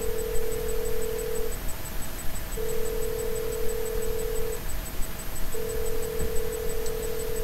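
A phone line in the adventure game Thimbleweed Park gives three long, steady electronic tones, each about a second and a half with short gaps between, over a faint constant hiss.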